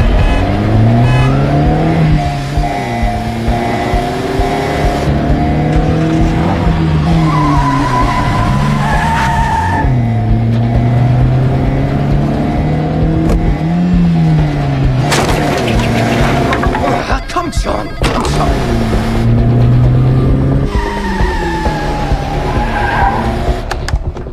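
Tires squeal and skid loudly as a car revs and drives off in the video game Quantum Break, engine pitch rising and falling through repeated accelerations over a sustained, close stretch.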